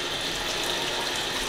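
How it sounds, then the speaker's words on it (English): Steady broadband rush of water pouring into a small compact washing machine in an apartment, filling continuously and fairly loud with no breaks and no talk. "so now we got more water"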